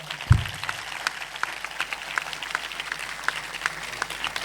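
A church congregation claps during an Urdu sermon, producing a steady spray of light, scattered hand claps that keeps going throughout, moderately distant and with no one speaking over it.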